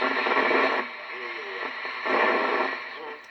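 A Kenwood radio tuned in FM mode gives off a steady hiss of static, close and moderately loud, with a faint warbling tone drifting through the noise.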